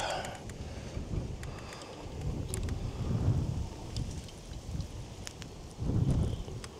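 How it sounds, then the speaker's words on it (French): Wind blowing outdoors while a ventilated turbo roof vent is fitted on a converted bus, a low rumbling buffet against the microphone that swells in gusts around the middle and end. "Ah, il y a du vent en plus."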